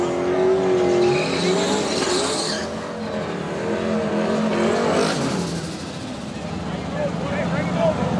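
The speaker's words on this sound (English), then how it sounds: "launching off that Thornton Motorsports starting line in the Mustang" Drag race cars, including a Mustang, launching hard off the starting line at a heads-up drag race, loud roaring engines with tire squeal, under announcer-style talk.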